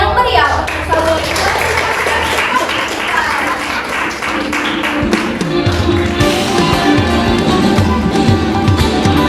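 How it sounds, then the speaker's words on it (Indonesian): School festival audience giving hearty applause, dense continuous clapping with some thumps, and a voice speaking over it toward the end. "Beri tepuk tangan yang meriah untuk Saudari."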